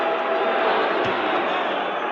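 A basketball arena crowd at a 1981 NBA playoff game, 76ers at Celtics in Boston, keeps up a loud, steady roar of disapproval, a broad sustained wash of voices with no break across the whole stretch.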